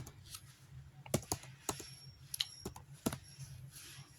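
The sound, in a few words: typing code on a computer keyboard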